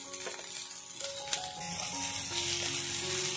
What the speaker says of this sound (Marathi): तेल तापलेलं आहे, त्यात लसूण घालूया, कांदा घालूया, हिरवी मिरची घालूया